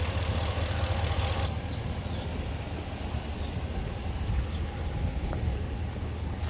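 A 5.7-liter Hemi V8 in a 2021 Ram 1500 Laramie 4x4 idles steadily, a smooth low rumble that holds an even, continuous drone with no revving.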